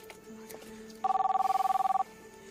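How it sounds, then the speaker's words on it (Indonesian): An electronic telephone bell rings for about a second in a rapid, even trill, fairly loud against a quiet indoor room with faint background murmur before it. "Ada suara telepon, aku angkat telepon dulu ya."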